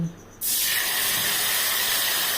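Ground spice paste of cashew, seeded tomato, fennel, coriander and cumin hits hot oil for paneer nawabi kofta curry, bursting into a loud, steady, close hiss and sizzle that holds evenly after a brief quiet start.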